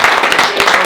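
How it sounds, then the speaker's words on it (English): Audience applause at a CEO business event: a short, dense patter of many hands clapping, loud and even, with a bit of crowd voice mixed in. "Round of applause."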